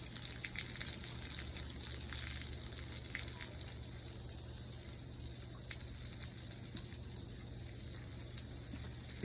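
Water gushes steadily as the underbelly of a boat is drained, a continuous, fairly faint rush of flowing water that holds at an even level throughout, with no talking over it.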